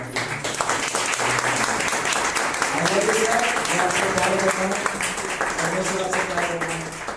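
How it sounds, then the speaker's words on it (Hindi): An audience gives loud, sustained applause, dense clapping from many hands, with a voice or singing carrying over it for about seven seconds. "फिर से एक बार जोरदार तालियां बजाएंगे"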